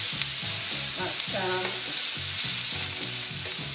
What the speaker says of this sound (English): frying the onions together with the pork